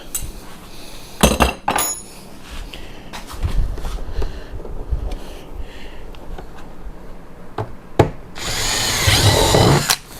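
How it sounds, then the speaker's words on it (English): A power drill whirs in several bursts of varying length while installing fender flares on a Polaris RZR Pro R, with faint clinks and rattles of metal between runs, and a longer, louder run at the end. "You're going to drill your last hole."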